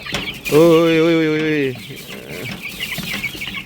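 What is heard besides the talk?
Rhode Island Red chickens clucking while eating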